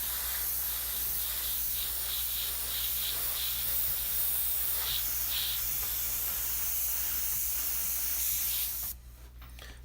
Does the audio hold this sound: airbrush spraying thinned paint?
yes